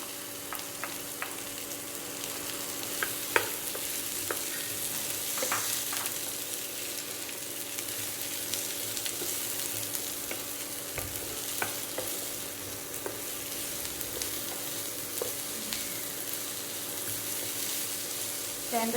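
Garlic cloves, tamarind and onions fry in a hot pan on medium to high flame, a steady broadband sizzle running throughout with occasional sharper crackles and stirring scrapes, fairly close and even in level, with no talking.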